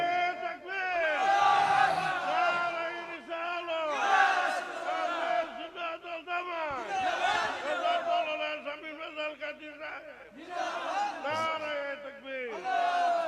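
At a Bengali religious gathering, a large crowd shouts takbir together in loud, repeated chanted waves, the voices rising and falling in rhythm with brief pauses between calls.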